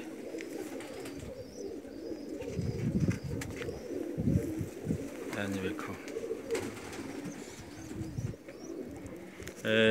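Fancy Teddy pigeons cooing nearby in soft, throaty rolls, with someone speaking briefly over them and a sharper noise at the very end.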